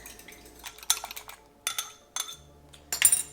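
Vanilla mixed into a bowl for sandworm bread dough, with a utensil clinking against the bowl in irregular bursts of scraping and tapping, close up and with quiet pauses between strokes.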